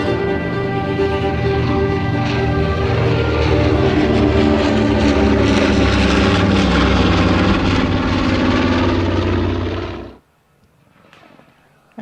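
Piston engines of a P-51D-type Mustang and a Douglas A-26 Invader drone loudly and steadily as the warbirds taxi out together, a rich harmonic roar that cuts off abruptly near the end, leaving faint background noise.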